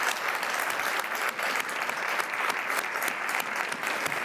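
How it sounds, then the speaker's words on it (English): An audience applauds award honorees at a leadership awards ceremony, a full, even round of clapping that stays loud and steady from start to finish. "Let's give them all a big round of applause."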